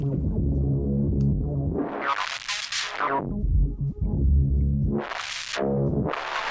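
A synth tone passes through the resonant Z bandpass filter of the Airwindows ZOutputStage plugin with poles turned fully up, sweeping up into bright whistling peaks and back down, the sweeps repeating in slow waves.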